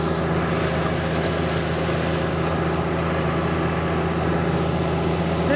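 A sub compact John Deere tractor runs a rear three-point flail mower with a back roller through overgrown grass, weeds and saplings, giving a steady, continuous engine drone with a low hum and no voices.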